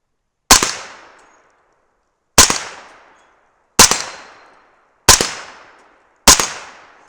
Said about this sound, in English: Let's take the swinging plates from left to right.